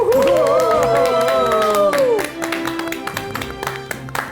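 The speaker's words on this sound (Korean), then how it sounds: "큰 박수로 모셔주시기 바랍니다" An audience claps and cheers to welcome a pharmacist lecturer onto the stage at a Korean mental-health talk. Bright voiced whoops ring out over the first two seconds, then steady, close clapping carries on to the end.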